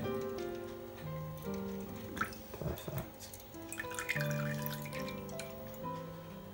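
A shaken Ocean View cocktail is poured from a shaker into a martini glass, giving a light trickling, dripping liquid sound with a few small clinks, close and fairly quiet, with no talking.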